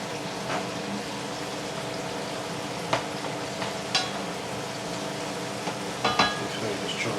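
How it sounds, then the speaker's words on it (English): Stirring Worcester sauce into a pan of chorizo, chicken and bacon pasta sauce: a steady, moderate sizzle with soft scraping of the spoon and a few sharper clinks against the pan, no talking. "A couple of good glugs of Worcester sauce. I'm just going to stir that around."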